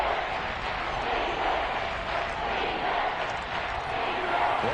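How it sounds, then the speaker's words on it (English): A steady, wash-like roar from the stadium crowd in the video game Madden 21 holds at a constant level for the whole stretch, swelling slightly in places. "The crowd getting into it as we come up on a big third down."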